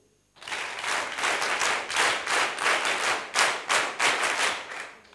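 An audience at a panel on women leaders in nation building performs a rhythmic NCC clap, about a dozen loud, even, unison bursts after a brief silence.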